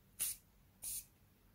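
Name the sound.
Morphe Continuous Mist setting spray being sprayed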